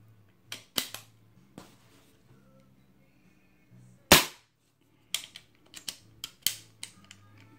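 Diana Bandit .22 air pistol fired in a string of shots, sharp dry cracks coming one after another with uneven gaps, one especially loud, with faint bolt clicks and handling noise between them in a quiet room.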